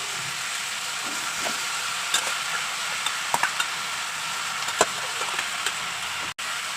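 Chicken added to a hot pan for chicken cutlet kebab gives a steady, moderate sizzle with a few sharp pops and stirring clinks scattered over it, and a brief thud near the end.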